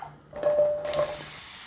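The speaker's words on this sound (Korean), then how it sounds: "들기름의 고소함이 살아있어야 되니까 불이 좀 있는 상태에서 볶아야 돼요" Stir-frying in perilla oil over high heat, a short burst of sizzling that jumps up partway through as the pan is stirred, with a faint steady tone underneath, close and moderately loud, no talking.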